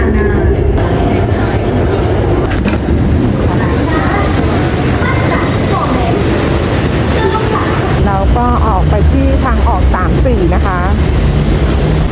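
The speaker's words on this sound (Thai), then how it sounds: "เราจะขึ้นรถไฟฟ้า BTS นะ" Bangkok's BTS Skytrain at a busy station, a loud, steady rumble of rail and crowd noise; rising and falling whines and squeals join in toward the end.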